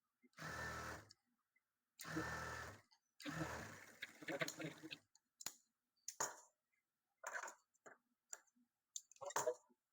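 Sewing machine stitching three layered pieces of silk blouse cloth, several short bursts of rapid mechanical clatter separated by silent pauses, close and fairly loud, with a few clicks between runs.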